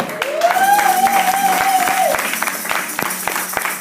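A church congregation at an evangelical service applauds, with a dense, steady patter of clapping that has voices and a sustained tone mixed in, then thins into scattered claps.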